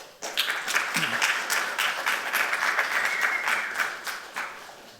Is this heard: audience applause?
yes